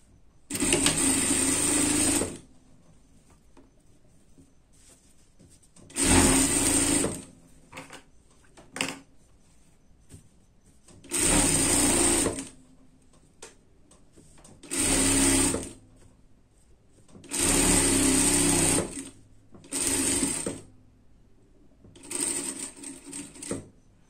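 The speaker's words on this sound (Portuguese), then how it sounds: "passar uma costura aqui em cima para juntar aqui uma costura de segurança" Sewing machine running a safety seam along a dress skirt, in six bursts of rapid, even stitching chatter separated by short quiet pauses.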